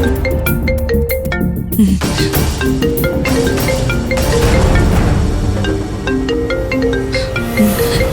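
A phone ringtone plays loudly and steadily, a bright repeating electronic melody of tonal notes continuing for several seconds with no talking over it.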